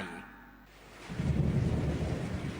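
A deep thunderstorm rumble swells in after a quiet first second, then rolls on loud and continuous with no voices.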